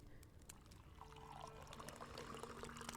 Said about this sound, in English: And pour some tea, if you please.